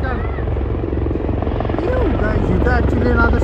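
An army helicopter flies over an Army Day open-day show in Pune, its steady rotor drone loud and continuous throughout, with voices talking over it.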